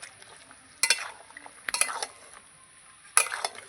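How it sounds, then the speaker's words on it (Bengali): Meat and potatoes being stir-fried together in a pan, heard as three short bursts of scraping and clinking with a faint sizzle between them, fairly quiet and with no talking. "আলুর সঙ্গে মাংসটা কিছুক্ষণ কষে নেব"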